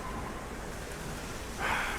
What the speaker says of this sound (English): it's raining outside, so I can't.